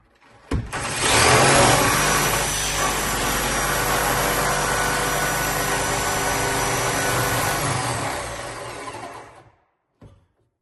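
A power jigsaw cuts through a wooden oven cabinet, starting abruptly into a loud, steady buzzing whine that holds for about nine seconds before stopping, followed by a brief knock.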